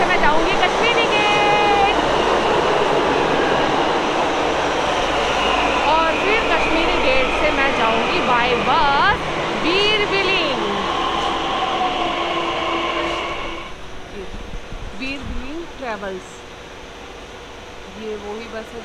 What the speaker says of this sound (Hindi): तो ये आ गई है मेरी मेट्रो, जिस मेट्रो से मैं जाऊँगी कश्मीरी गेट।